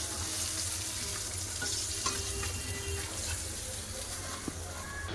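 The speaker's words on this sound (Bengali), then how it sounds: "কড়াতে তেল আছে দিয়ে দেবো পাঁচ ফোড়ন" Panch phoron spices and a dried red chilli crackle in hot oil in a wok, a steady close sizzle with faint pops and a low background rumble, no voices.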